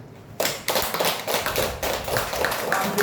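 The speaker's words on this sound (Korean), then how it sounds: "다시 한번 박수." A congregation at a church service breaks into steady, close applause that starts abruptly and continues for about three seconds of dense clapping.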